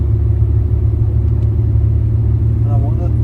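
A car climbs a steep highway grade in third gear, its engine giving a loud, steady low rumble throughout, with a brief voice near the end.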